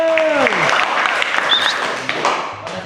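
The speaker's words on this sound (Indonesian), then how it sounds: "kita beri tepuk tangan dulu" A classroom audience applauds a group that has just finished its presentation. The clapping is dense and sustained, with a voice heard briefly at the start and a faint tone partway through.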